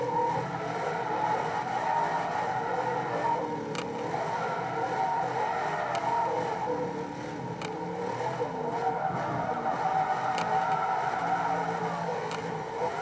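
Racing car in the video game Forza 2 drifting, with a steady engine drone and tire skid noise running throughout at moderate, even loudness.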